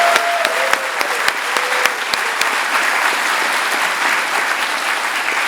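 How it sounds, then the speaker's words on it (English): An audience at a film festival awards ceremony gives its volunteers a round of applause: sustained, even clapping from a sizable crowd, with a few sharper claps standing out near the start. "all of our volunteers, a round of applause."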